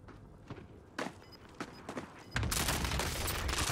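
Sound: cluster strike explosions in Call of Duty Warzone video game

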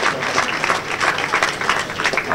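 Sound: applause for the youth coaches

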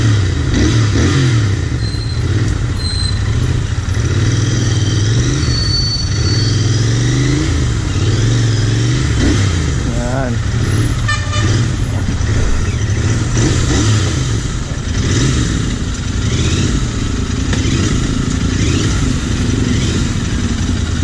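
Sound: Royal Enfield motorcycle engine revving during test drive

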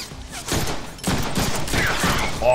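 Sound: gunfire from enemies' firearms in Deadpool video game

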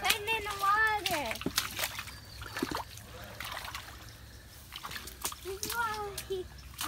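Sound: child splashing water while playing in rain

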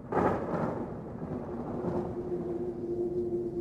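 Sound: thunder rumble sound effect

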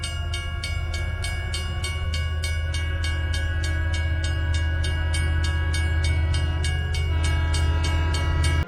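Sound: train running, cartoon sound effect

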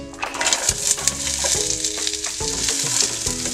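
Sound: oil heating and sizzling in a pan

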